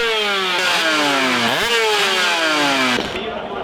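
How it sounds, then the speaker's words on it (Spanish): An Aprilia racing motorcycle engine screams past up close, pitch rising and falling through gear shifts, then fading briefly at the end. "poder oír estas motos es muy bonito"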